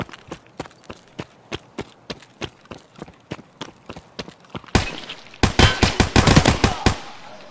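Gunfire from the shooter game Escape from Tarkov: a steady run of single shots, roughly three per second, then a denser, louder burst of rapid automatic fire toward the end, with no talk over it.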